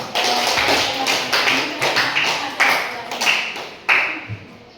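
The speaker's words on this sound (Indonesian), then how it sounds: "kita beri tepuk tangan dulu" Sharp percussive claps from a small group in a classroom, uneven and scattered, with a few louder hits standing out; no cheering, more like brief polite applause than a crowd ovation.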